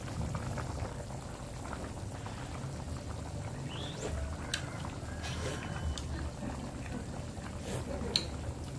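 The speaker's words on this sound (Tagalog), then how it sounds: "kumukulo-kulo na siya" Steady bubbling of a pot of noodle broth boiling on the stove for bihon, a low continuous simmer with occasional small clinks and faint background voices.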